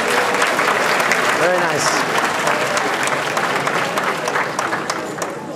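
Audience applause fills a panel room at an anime convention, a steady dense clapping that holds throughout and slowly thins, with a voice speaking briefly over it.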